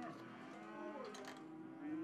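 Beef cattle at an Iowa livestock buyer's pens give a drawn-out, faint moo, with another lowing call rising near the end against quiet background noise.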